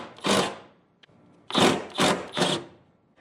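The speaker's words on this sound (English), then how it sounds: "So now let's go ahead and take off the top 13mm bolts." A tool works the top 13mm bolts loose from a Porsche 911 engine mount, heard as four close, raspy ratcheting bursts separated by short pauses.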